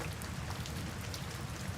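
Steady rain falls and patters on a surface in an even, continuous wash, with no voices over it.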